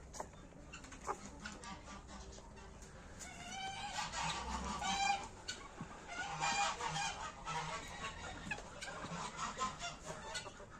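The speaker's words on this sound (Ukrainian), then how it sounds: "Там дорослі наші гуси роблять розборки, а тут наш молодняк" Several adult geese honk and squabble at once in a noisy flurry, rising and falling over a murmuring background of other fowl, including young geese.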